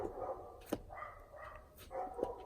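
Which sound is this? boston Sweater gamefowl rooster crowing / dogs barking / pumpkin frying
dogs barking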